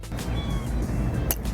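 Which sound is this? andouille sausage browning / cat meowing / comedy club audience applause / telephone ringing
cat meowing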